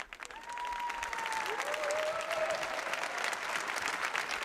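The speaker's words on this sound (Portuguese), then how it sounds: "O aplauso dos fiéis e peregrinos." Sustained applause from the faithful and pilgrims gathered at a papal general audience in the San Damaso courtyard, a dense steady clapping crowd filling the space at even loudness from start to finish.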